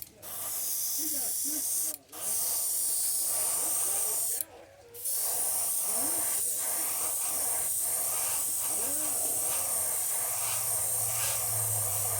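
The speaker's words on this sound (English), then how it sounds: "let me get all that water out of my airbrush. Alright, here we go. So now, let's spray this thing" Steady airbrush spraying paint on a crankbait fishing lure, hissing continuously for most of the clip, with two brief pauses, fairly close and even in loudness.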